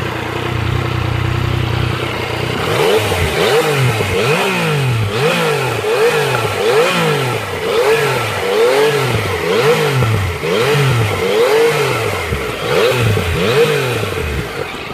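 A 2017 Yamaha MT-09 motorcycle engine in A mode revs up and down repeatedly in a steady rhythm, loud and close, each rev rising and falling with a throaty rasp.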